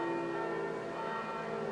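Church bells ring at a distance with a steady, sustained tonal hum that blends into outdoor summer air, continuous and fairly faint throughout.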